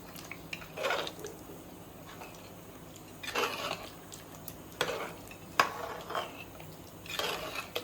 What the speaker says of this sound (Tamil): அரிசியை போட்டு நல்லா கிளறிடுவோம்.